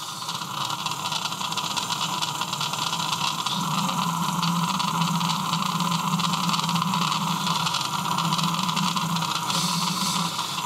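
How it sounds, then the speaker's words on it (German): A small model ambulance motor runs steadily at its lowest speed setting with a constant whirring hum and hiss, unchanging throughout, no voices. "der Motor läuft momentan mit dem niedrigsten Geschwindigkeitswert"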